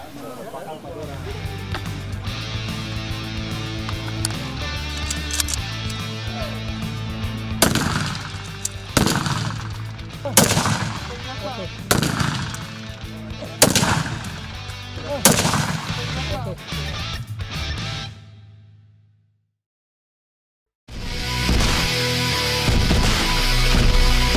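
Gunshots at an outdoor shooting practice range, fired from 25 metres at a target: a string of sharp, loud single cracks at uneven intervals over a steady background rumble, then a short silence before the noise returns.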